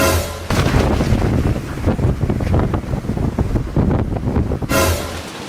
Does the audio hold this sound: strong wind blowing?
yes